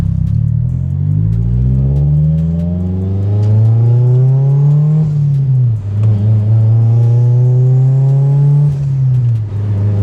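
Mitsubishi Lancer Evolution VIII with a new shifter pulling hard through two gears on a drive, the engine note climbing steadily, dropping at a shift, then climbing again, loud and close with no talk.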